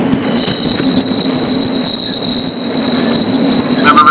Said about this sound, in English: Oh, this train's not as loud as the last one either.